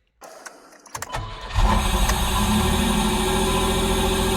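A Pontiac Fiero engine cranks briefly, then catches and settles into a steady idle after an ECU swap, loud and close, with no talking.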